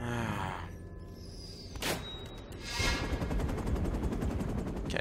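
Gunfire in Uncharted: Drake's Fortune on PS3, with sharp shots and a rapid rattling burst over background game sound, moderately loud and alone.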